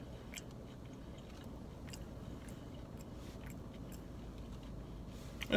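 Chewing Wendy's breakfast potatoes seasoned with cracked black pepper: quiet, close mouth sounds with soft bites and faint crunches scattered over several seconds, no talking.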